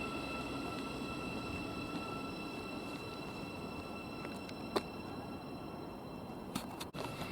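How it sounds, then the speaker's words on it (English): Thameslink Class 700 electric train pulling out of West Hampstead station on a service to Herne Hill, a steady low rumble and hum of the departing train with a few faint clicks and squeals, no talk. "Now departing service to Herne Hill from St Albans."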